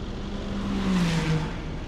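A Ferrari GT3 race car engine in a racing game at Laguna Seca passes with a smooth, steady whirring drone that swells slightly in the middle and falls away, fairly muted rather than roaring.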